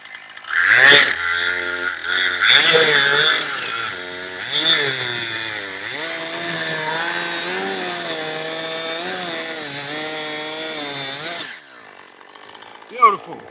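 A one-handed chainsaw cuts oak tree wood, its engine revving and whining in a sustained, loud buzz that rises and falls with the cuts, then stops abruptly near the end.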